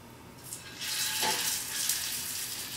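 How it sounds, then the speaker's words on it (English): Steady hiss of pork chops frying in hot oil, rising after a brief start and holding loud and continuous close by, with no talking. "So do you hear that sizzle?"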